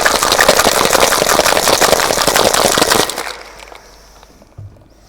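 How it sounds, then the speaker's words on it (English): A cocktail shaker holding one big ice rock and several small cubes is shaken hard for a Gold Rush cocktail. It makes a loud, fast, continuous rattle for about three seconds, then goes quiet except for a single faint knock. "Give it a good shake."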